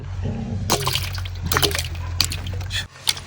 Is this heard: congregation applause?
no